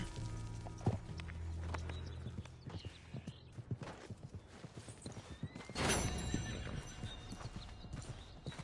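In the video game Red Dead Redemption, a horse's hooves clip-clop in a steady gallop, and the horse neighs and snorts up close.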